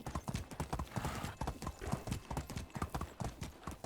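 Horse hooves clip-clop steadily in the medieval life-sim game Medieval Dynasty, a rapid, even, close rhythm of hoof strikes with a continuous outdoor ambience and no talk.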